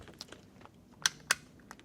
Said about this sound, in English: All of my buttons are clicking.